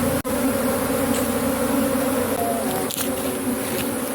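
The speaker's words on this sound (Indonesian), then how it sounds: "tadi pesan dari Bu Marni, kalau ada lebah madu yang ada di ladang jangan dibakar" Asian honey bees (Apis cerana) kept in hives at a coconut-tree farm plot, producing a steady, dense, close buzzing drone that holds throughout without pause.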